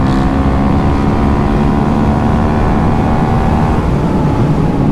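A Honda CRF 300L motorcycle with modifications pulls hard toward the red line, its engine a loud continuous drone mixed with heavy wind rush throughout, with no speech.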